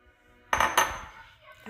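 Kabocha squash pieces dropped into a pot of onions in a little oil, two quick clattering knocks close up against the pot, then a fading rattle.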